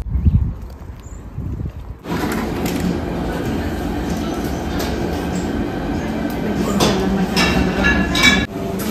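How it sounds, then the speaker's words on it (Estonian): A tram riding on its rails, with a steady rumbling roll and occasional clacks and squeals of wheels on track, heard from inside the car and continuing throughout. "lähme trammiga"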